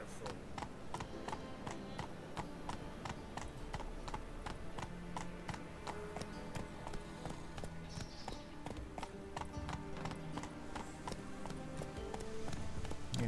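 Horse hooves gallop in The Witcher 3 video game, a fast steady clip-clop rhythm running throughout at moderate loudness, with a faint voice briefly over it.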